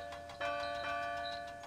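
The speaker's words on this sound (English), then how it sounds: "The bell chimed cheerfully as it was loaded onto Duncan's flatbed." A big bell loaded onto a flatbed chimes in a toy-train story, with a few clear metallic rings that linger, sounding at a moderate distance over soft ticking.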